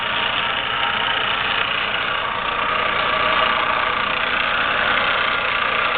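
A JET Arboga 20-inch drill press, model 44335, runs at steady speed, giving a continuous even motor whir and mechanical hum close by with no talk over it.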